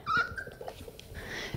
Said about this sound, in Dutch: die hond is er nu achter gekomen dat hij kan blaffen